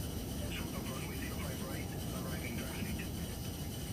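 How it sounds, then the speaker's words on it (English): An Airbus A320 in a flight simulator gives off a faint, steady low engine rumble and hiss with no clear change in pitch, while a voice talks over it. "I can hear the plane."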